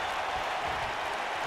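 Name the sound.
arena crowd cheering in WWE 2K19 video game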